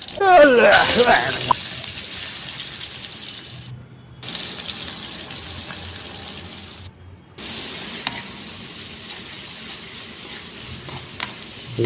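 Cumin seeds and raw onion frying in hot oil, a steady sizzle with stirring scrapes, close and continuous with a few brief gaps, while someone talks over it.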